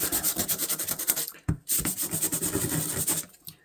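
Abrasive scratching on a rusty fishing knife surface to roughen it for glue, a close, rapid back-and-forth rasping in quick strokes with a brief pause near the middle.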